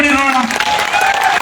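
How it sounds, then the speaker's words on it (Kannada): An audience at a state pensioners' association meeting claps in a dense, steady burst of applause that fills the whole moment, with a voice talking over it. "ಜೋರಾಗಿ ಚಪ್ಪಾಳೆ ಹೊಡಿ ನೋಡೋಣ"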